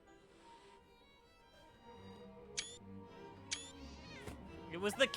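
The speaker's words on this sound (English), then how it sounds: "It was the cat!" A game cat gives a few short meows toward the end, rising and wavering over a quiet synth music bed with scattered clicks.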